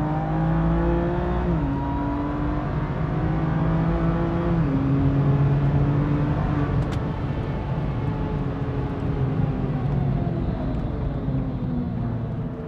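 A race car engine drones continuously at high revs, shifting pitch as gears change, heard from inside on a wet track at Bilster Berg with a steady road roar and no talking.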